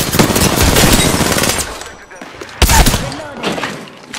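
Rapid automatic gunfire from an Apex Legends firefight, dense bursts filling the first half, a short lull, then another loud burst with scattered shots, with faint voice callouts mixed underneath.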